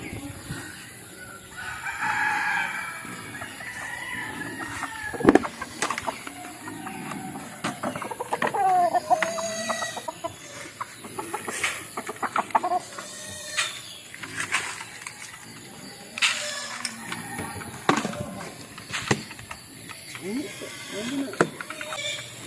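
A backyard mother hen with her chicks, clucking steadily and close, with chick peeps and rooster crowing mixed in, along with someone talking over the birds throughout.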